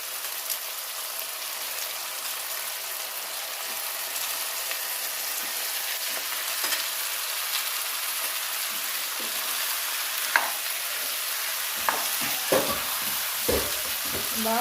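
Chopped eggplant frying in hot oil for an eggplant and potato curry gives a steady, close sizzle throughout, with a few sharp clicks of stirring toward the end and no voices.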